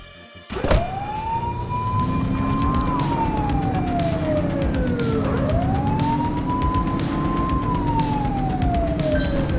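A police car siren wails loudly in a pursuit in the PS5 game The Precinct, sweeping up and down in long rising and falling cycles over a roaring car engine, beginning abruptly after a short quiet moment.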